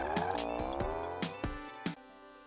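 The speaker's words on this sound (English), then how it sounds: "Let's start this car and get out of here." A car in the video game Death Road to Canada cranks and pulls away, engine tone rising in repeated revving bursts with short sharp thumps, fairly quiet and with no talking.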